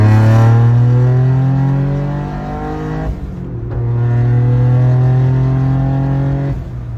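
Car engine revving up and holding high, easing off, then climbing again in long steady surges, loud and close with no voices.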